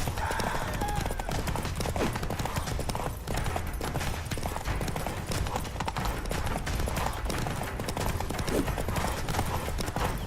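In The Witcher 3: Wild Hunt, rapid hoofbeats of a galloping horse drum on steadily, with battle noise and scattered effects layered over them, loud throughout.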